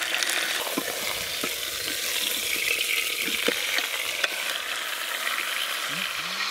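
Meat sears in melted ghee after being flipped, a steady close sizzle and crackle with a few sharp pops and scrapes of a utensil, no talking over it.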